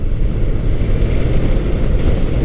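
A Honda ST1300 sport-touring motorcycle engine drones loudly and steadily with a deep, rumbling low end, mixed with wind rush as the bike pulls along at speed.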